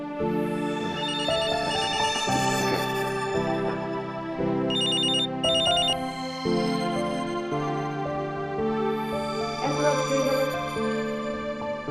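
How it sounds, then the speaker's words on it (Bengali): A melodic phone ringtone for an incoming call plays loud and continuous, repeating its tune with no voices over it. "ফোন আসছে।"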